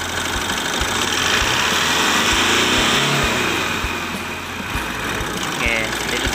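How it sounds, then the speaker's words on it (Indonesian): Engine being revved during a check for oil seepage, a steady, loud mechanical drone with a high whine that holds throughout, easing slightly near the end before rising again. "Kita tunggu untuk beberapa saat lalu kita gas lagi."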